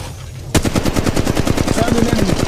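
Rapid automatic gunfire in the mobile battle-royale game Apex Legends Mobile, a sustained burst of evenly spaced loud shots starting abruptly after a quiet moment and continuing steadily to the end.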